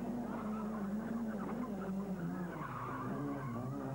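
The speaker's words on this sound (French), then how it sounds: "Robert Droukmans avec une escorte très survireuse" Ford Escort rally car at the 1993 Ypres 24 Hours Rally in Belgium, tires skidding as it oversteers, a steady engine drone under scrubbing tire noise, heard from a distance and fairly faint.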